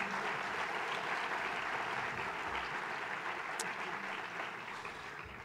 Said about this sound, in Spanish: Que sí, ese aplauso fuerte